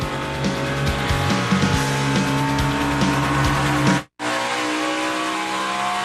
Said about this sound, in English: Kyle Busch closing in. Little bit at a time on Brad Keselowski for the race lead here in New Hampshire